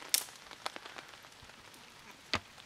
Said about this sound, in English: Rain hitting the tarp, boys.